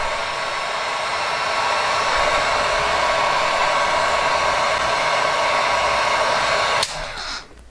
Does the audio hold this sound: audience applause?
no